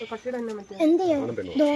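Lambs bleat in several short, wavering cries, close and fairly loud, with voices mixed in, at a children's park and exotic farm in Thiruvalla.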